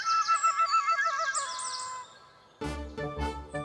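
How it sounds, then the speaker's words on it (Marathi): Sparrow in an old mango tree, heard as a run of bright, close chirps and tweets that repeat in quick bursts. Music or a louder tonal passage follows near the end. "जुन्या आंब्याच्या झाडावर बसलेली चिमणी"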